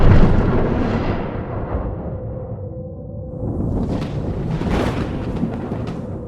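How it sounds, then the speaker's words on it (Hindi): Thunder rolls through a jungle thunderstorm at night near Jim Corbett, a loud, rumbling crack that fades into a low rolling murmur before a second swelling, gusty rumble. No one speaks. "बिजली कड़क रही है"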